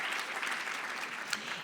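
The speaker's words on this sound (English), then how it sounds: "please stand and give a round of applause for these amazing people." Conference audience applauding, a dense steady wash of clapping heard close and fairly loud for a short stretch.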